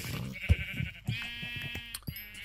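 Sheep bleating from mob spawners in a Minecraft-style game on Xbox One, a few bleats at close range over quiet game ambience.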